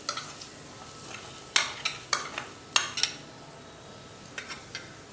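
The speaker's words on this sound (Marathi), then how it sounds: "आपण ही फोडणी या बटाट्यावर टाकून घ्यायची आहे" Faint background hiss broken by a few sharp bursts of sizzling as a hot oil tempering is poured over potatoes, with brief scraping between them.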